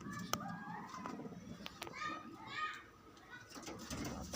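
A blue bar pigeon coos softly in a loft amid faint background chatter and children's voices, with low murmuring coos and occasional sharp clicks.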